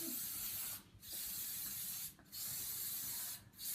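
Cooking spray hissing onto a muffin pan in three broad bursts, each about a second long with short pauses between, close and steady against a quiet kitchen.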